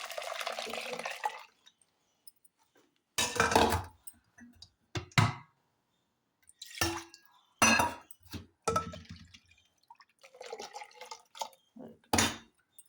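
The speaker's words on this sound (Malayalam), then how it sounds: "ഇനി ഈ തേങ്ങ എടുത്തിട്ട് നമ്മൾ ഇതിലോട്ട് ഒഴിക്കും" Ground coconut paste poured into an anchovy curry, heard as scattered close drips, splashes and clinks of a pot and utensils between quiet gaps, with speech in places.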